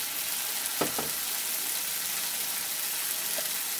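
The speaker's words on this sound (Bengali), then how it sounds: "মশলাটাকে একটু ভালো করে 2 মিনিট মতো কষিয়ে নেব" Chilli powder, turmeric and chopped tomato sizzle steadily in hot oil for a Bengali brinjal curry, with a couple of brief stirring scrapes near the start and no talking.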